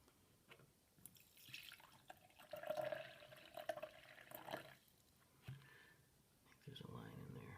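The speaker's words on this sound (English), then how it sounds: "Add some water." Water trickles and drips into a Young Living bamboo diffuser, faint and close, in a few short pours amid background noise, with a person talking nearby.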